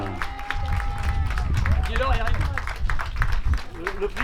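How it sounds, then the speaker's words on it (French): Spectators at an outdoor cycling grand prix in Savy-Berlette applaud continuously for the first women's finisher, a steady mass of clapping and crowd noise under a voice talking over a public address. "je voudrais qu'on fasse un tonnerre d'applaudissements pour la première féminine, Sophie Hainaut"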